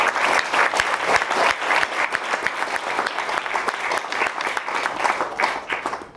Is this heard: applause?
yes